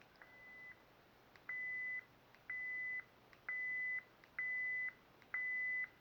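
Six steady electronic beeps from a ProffieOS lightsaber volume menu at 10% volume, each about half a second long, evenly spaced against a faint background hiss, clear but quiet.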